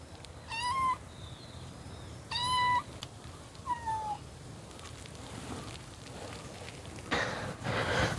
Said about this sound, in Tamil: இது அவங்களுடைய பூனாக்குட்டி.